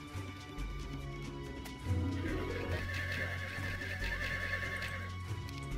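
A game horse whinnies in a long, loud neigh, with clip-clop hoofbeats and a steady background drone, no voices over it.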